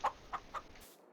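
Three short, faint clucks from chickens in the Farming Simulator 22 video game, evenly spaced clucking heard alone over a quiet background.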